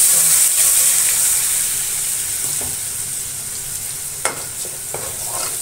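Ground masala paste for a fresh karandi fish curry frying in oil with a dense, loud, continuous sizzle and hiss, broken by a couple of faint stirring knocks near the end.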